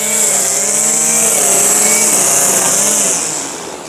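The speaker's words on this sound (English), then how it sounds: "He likes to use the weed whacker before the mower." A gas-powered weed whacker trims lawn grass, its high buzzing engine whine loud and steady throughout before easing slightly at the end.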